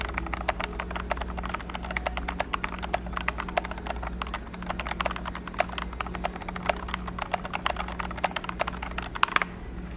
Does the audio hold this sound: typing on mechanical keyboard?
yes